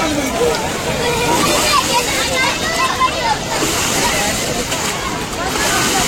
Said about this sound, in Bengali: অনেকক্ষণ ধরে গঙ্গায় পাপ ধুলাম, স্নান করলাম হারকিপৌড়িতে